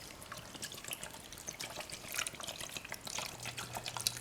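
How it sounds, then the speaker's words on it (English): Bottled water poured into a metal canteen cup for kimchi soup, a faint, steady splashing trickle running throughout with no voices. "Now we're going to add some water in there."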